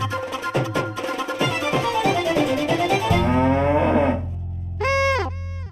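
A water buffalo lets out a long, loud, close mooing bellow, then a short second call after a brief pause, with rhythmic background music beneath.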